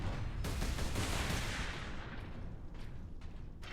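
Gunfire in Warhammer 40K: Space Marine, a thick, roaring volley of rapid shots that is loudest at first, then thins into scattered cracks before fading.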